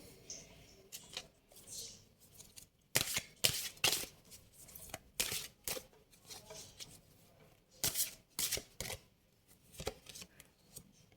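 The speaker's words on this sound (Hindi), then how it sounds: "मैं 3 कार्ड निकालूंगी यहाँ पर।" Tarot cards are shuffled and drawn by hand, with soft riffling bursts and quick papery flicks and snaps coming in irregular clusters, close and quiet.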